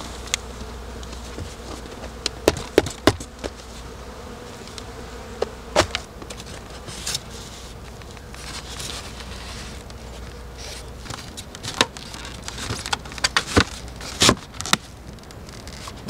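Honeybees buzz steadily as they are shaken and poured from a transport box into a hive that once held a dead colony, with scattered knocks and taps standing out from the constant drone.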